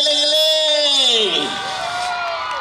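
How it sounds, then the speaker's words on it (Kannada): Festival crowd at the Pendal Utsav in Haliyal lets out a loud, sustained cheer, with rising whoops and shouting voices swelling together and then fading into a lower babble. "ಬರ್ಲಿ ಜೋರ ಚಪ್ಪಾಳೆ ಕಿಚ್ಚು ಗಿಲೆ"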